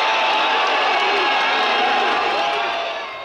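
A large crowd of mourners at Parliament makes a dense, loud roar of voices and shouts that carries throughout before easing slightly at the end.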